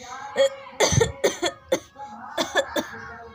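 A run of harsh, loud coughs, about half a dozen bursts in quick irregular fits, close up, with brief pauses between them.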